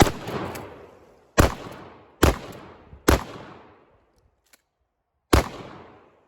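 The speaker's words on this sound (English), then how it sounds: "the first rounds with my shotgun were the shotgun skills gauge" Sym-Tac shotgun fired in a timed skills drill: four loud, sharp blasts in quick succession, each with a ringing decay, then a pause and a fifth shot, with no talk.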